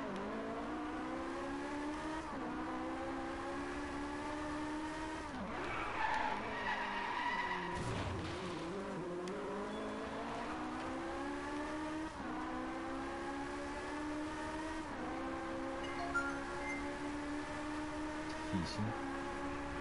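Car drifting in the Drive Club racing game, with a sustained engine drone shifting pitch and long tire skids and squeals, fairly quiet and steady throughout.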